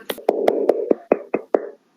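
Schoolchildren in a class clap for a student, about eight separate claps at an even, brisk rhythm, close and clear, ending after under two seconds.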